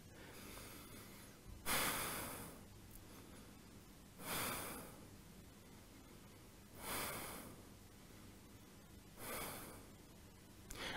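Slow, deep breaths during a held yoga pose in a vinyasa flow class, four long audible exhales spaced a few seconds apart, close and soft, with quiet room tone between.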